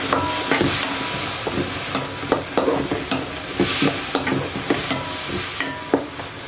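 Yardlong green beans are stirred in a hot pan with soy sauce and black pepper, producing a loud, steady hiss of frying punctuated by irregular spatula knocks and scrapes.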